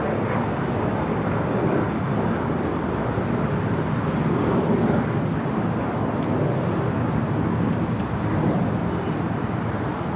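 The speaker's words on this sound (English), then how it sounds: "we do have Aeromexico, the Dreamliner" An Aeromexico Boeing 787 Dreamliner takes off from the north side at LAX, producing a loud, sustained broadband engine roar that stays steady and fairly close throughout.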